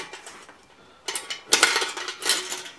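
Stainless steel tiffin box pots for bushcraft are stacked and clipped together, giving bright metallic clinks and rattles in several close bursts after a quiet start.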